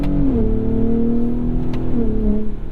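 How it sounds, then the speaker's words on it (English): The V6 exhaust of a 2021 Ford F-150 Raptor pickup revs up and holds a steady, droning note at close range, then dips slightly and climbs again, loud and continuous. "I'm not in love with the exhaust note on this"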